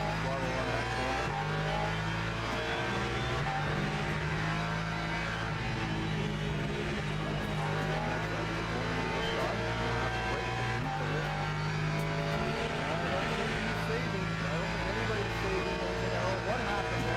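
GT3 race car engine in the Le Mans Ultimate sim racing game at the Algarve circuit, a continuous loud drone with shifting pitch as the throttle lifts and reapplies, with a voice talking over it.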